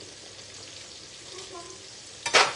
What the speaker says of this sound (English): I'm in the middle of frying up this bacon and this onion